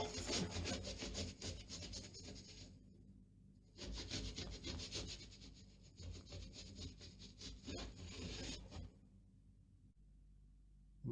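A damp cloth rubs black paint into the edge of a wooden beam, giving close, scratchy strokes in two long bursts with a short pause between them and quieter handling sounds after.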